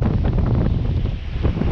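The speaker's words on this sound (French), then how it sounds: "finalement le vent annoncé est arrivé, un peu plus tard que prévu" Strong wind at sea in the Gulf of Corinth, with a steady roar and heavy microphone buffeting on a sailboat, rushing continuously with faint water sounds beneath.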